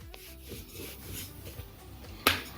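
Rolling pin working cheese shankarpali dough on a board, soft rubbing and rolling strokes repeating quietly, ending in a sharp light knock.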